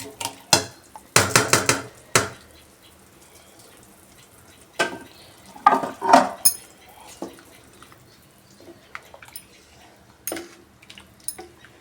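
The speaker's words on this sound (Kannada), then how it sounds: "ನನ್ನ ಹತ್ರ ಬುಲೆಟ್ ರೈಸ್ ಇತ್ತು, ನಾನು ಅದನ್ನು ಹಾಕ್ತಾಯಿದ್ದೀನಿ." Washed bullet rice poured into a cooking pot for ghee rice, giving a few loud clattering bursts of grains and utensil knocks, then quieter scattered clinks and scrapes.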